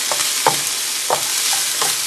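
Green onion sizzling in a hot pan while being stirred, a steady close crackle broken by several scraping stir strokes in irregular rhythm.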